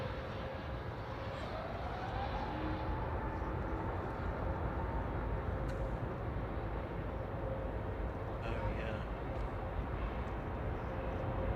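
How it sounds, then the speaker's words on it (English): Brussels Airlines jet touching down at Manchester Airport, a faint distant rumbling roar that holds steady throughout without voices. "Just about to touch down is Brussels from Brussels"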